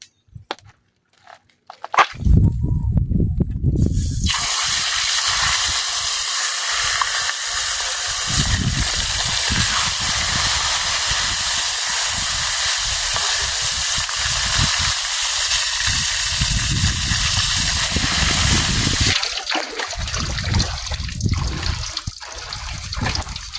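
Steady, loud sizzling and crackling of food frying in hot oil, starting after a brief pause and continuing nearly unbroken before softening near the end.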